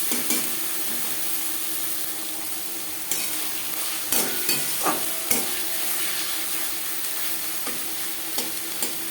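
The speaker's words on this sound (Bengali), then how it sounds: "মশলা ও পেঁয়াজের সাথে মাছের তেল বেশ ভালো করে মিক্স করে দেব" Fish oil being mixed with spices and onion in a hot pan for a Bengali chorchori, a close steady sizzle with sharp scraping stirs and spoon knocks scattered throughout, no voices.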